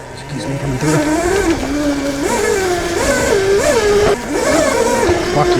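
A 13 kW electric pit bike, rated around 17 hp and 67 mph, whines loudly as it rides, its motor pitch rising and falling with repeated surges of speed, close and continuous.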